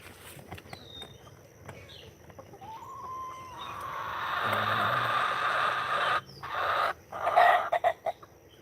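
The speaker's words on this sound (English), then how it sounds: "There's a new rooster." A rooster that is part Silkie chicken crows with a rising call, then clucks and squawks loudly and close by over farmyard background noise, with no one talking.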